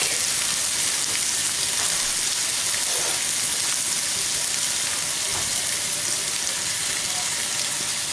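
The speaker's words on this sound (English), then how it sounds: "So now I'm adding in the courgette and the garlic." Courgette and garlic fry in a pan for a Mediterranean gnocchi bake, giving a steady, broad sizzle that holds at an even level throughout with a few faint scrapes and no one talking.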